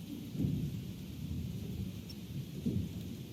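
Thunderstorm in the video game Life Is Strange: two deep, rolling thunder rumbles swell over a steady wash of rain, fairly close and alone with no voices.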